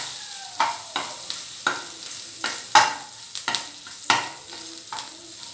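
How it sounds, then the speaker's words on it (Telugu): Green chillies fry in a small amount of oil for an egg 65 snack, with irregular stirring scrapes and light sizzling bursts close up, no voices. "Next green chillies. ఇది కూడా ఒక్కసారి ఫ్రై చేసుకోవాలి."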